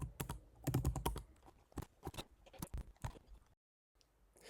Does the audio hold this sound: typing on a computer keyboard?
yes